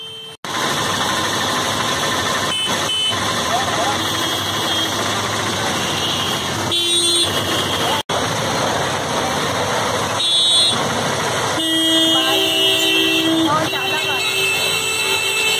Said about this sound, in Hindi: बहुत बारिश होने के कारण मैं जा रही हूँ ऑटो रिक्शा पे और राहुल जा रहा है बाइक पे